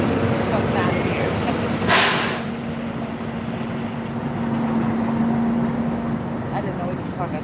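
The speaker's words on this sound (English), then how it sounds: "People know loud old trucks. This truck's out of here." A loud old truck pulling away outside, with a steady heavy engine rumble and a steady drone throughout, plus a brief hiss-like burst partway through.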